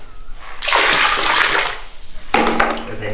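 Water from a bucket is dumped into a Thai squat toilet in a village bathroom, two loud close gushing pours separated by a brief pause.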